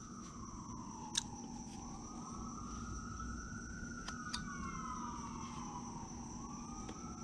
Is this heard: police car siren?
yes